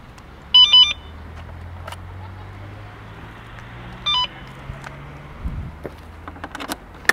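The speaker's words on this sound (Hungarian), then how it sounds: "hogyha úgy próbáljuk bekapcsolni, nincsen feloldva, a távirányítóval, akkor elkezd csipogni" A DOOHAN iTango 48V electric scooter that has not been unlocked by its remote beeps in two short electronic bursts a few seconds apart, close and clear over quiet room tone, followed by faint clicks and handling noises.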